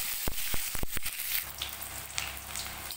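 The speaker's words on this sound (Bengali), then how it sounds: "পেঁয়াজ ভেজে নেব" Chopped onion with whole cumin, white cumin, mustard seeds and a dried red chilli frying in mustard oil, a steady close sizzle with a few sharp crackles and pops early on, heard alone.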